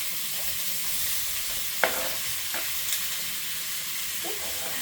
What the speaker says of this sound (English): The pan has become hot, so I'm just going to throw my kielbasa sausages in there.